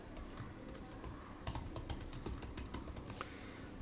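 Quiet, steady typing on a computer keyboard while entering a privacy policy heading on a landing page, with rapid, even keystrokes throughout over faint background noise and no talking.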